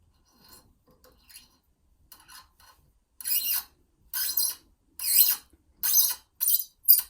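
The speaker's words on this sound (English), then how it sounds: "So we'll tap that out now with a 4mm tap" A 4mm tap cuts a thread into a brass piece clamped in a vise, giving repeated short raspy scraping strokes, quiet at first and then louder, each lasting under a second and separated by brief pauses.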